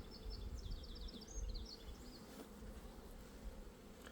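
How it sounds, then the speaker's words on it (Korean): Honeybees swarm over an opened hive during a spring inspection, a steady, fairly faint buzz with the whine of individual bees flying close past, and no voices. "자, 야는 한 장벌도 안 되는 벌이에요."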